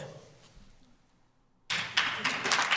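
A sudden burst of clapping breaks in after a quiet, murky stretch, dense and fairly loud with a few sharper peaks, carrying on to the end.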